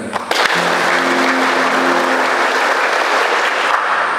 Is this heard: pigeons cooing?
no